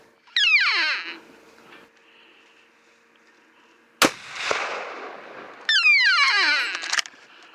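A single loud, sharp rifle shot cracks out mid-clip during an elk hunt in Moffat County, Colorado, echoing briefly across open country. High descending squealing calls come just before and after it.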